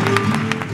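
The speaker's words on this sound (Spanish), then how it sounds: "Un aplauso muy grande" Applause from a concert audience, a steady wash of clapping through the short moment with no clear break or lull.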